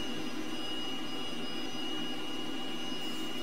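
A T-37 jet engine whines steadily as its RPM rises, a continuous high-pitched turbine tone with a dense roar underneath, close and unbroken.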